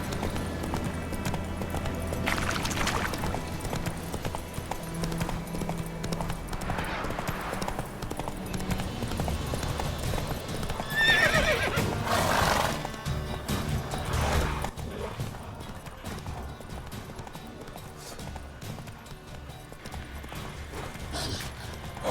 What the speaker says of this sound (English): Call my horse in.